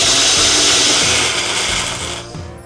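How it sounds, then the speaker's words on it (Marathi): Roasted wheat with salt and turmeric being ground to a fine powder in a kitchen grinder, a loud, steady whirring and grinding roar that tapers off near the end, with no talking. "झाकण लावायचं आणि याची छान अशी बारीक पूड करू."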